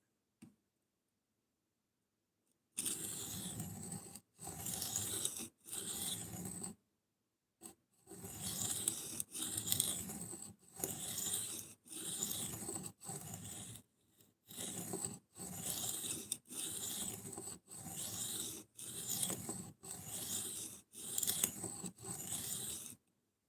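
A knife's damaged edge section being sharpened: about fourteen rhythmic rasping strokes in steady succession after a brief pause, each a short gritty scrape, close and fairly quiet.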